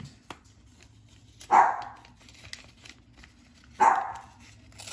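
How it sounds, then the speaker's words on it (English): A dog barks twice, a couple of seconds apart, each a short sharp burst at moderate distance over a quiet, low background hum. "There goes the dog."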